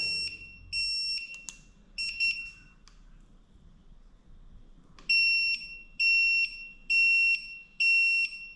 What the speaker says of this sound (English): Geez, that beep's annoying.